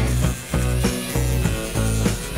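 Rhythmic scraping strokes of hand-sanding a part to fit on a 1962 Ford Galaxie, each pass rasping for about half a second with short gaps between, close and loud.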